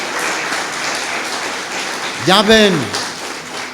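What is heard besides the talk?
congregation applauding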